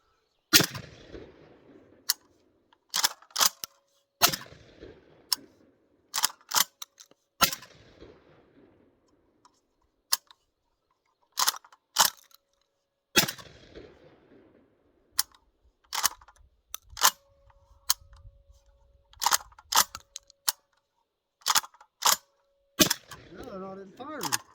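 Citadel Boss 25 shotgun firing garbage rounds that fail to cycle, a string of sharp, loud close shots spaced irregularly with clanking handling noises and pauses between them, a voice speaking at times.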